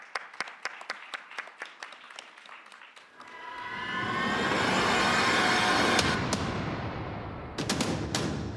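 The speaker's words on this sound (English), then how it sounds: "Let's give him a round of applause." Audience at a tech competition final in Tokyo applauds a presenter on stage, starting as scattered sharp claps and swelling into a loud sustained round of clapping, then tapering with a few late claps.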